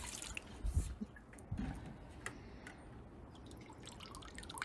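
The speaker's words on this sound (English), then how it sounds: "now I'm just gonna rinse off the rock from all that stuff that I scraped off here" Water poured over a rock to rinse off scraped-away debris, producing soft splashes and drips, with heavier pouring bursts early on and quieter trickling afterward, close by.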